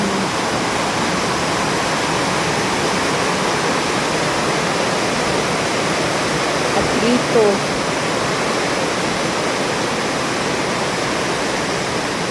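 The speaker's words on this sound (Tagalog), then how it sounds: "Biglang buhos ng ulan." A loud, steady roar of heavy rain pouring down without letup, with a brief voice faintly heard beneath the downpour.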